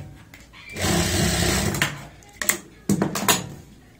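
Short bursts from a sewing machine stitching palazzo fabric: one longer run of about a second, then a few quick starts and stops mixed with clicks and fabric handling, close and fairly loud, with no speech.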